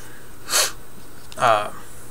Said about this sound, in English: I'm really sorry to do all that sniffling.